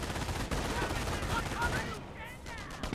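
Battlefield gunfire in the World War II strategy game Company of Heroes, with continuous rifle and machine-gun volleys crackling throughout and brief whistling effects near the end.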